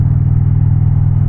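An Indian Challenger motorcycle fitted with a Rinehart exhaust revs briefly and loudly up close, a deep pulsing V-twin rumble that stays strong throughout.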